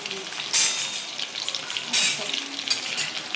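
Garlic and curry leaves fry in hot oil, giving a close crackling sizzle with loud bursts of spattering as the leaves hit the pan, then continued hissing.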